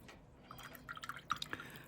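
Watercolor paint dropped into a wet wash, a few soft, faint drips and small liquid plinks scattered close up over a quiet background, with no talking.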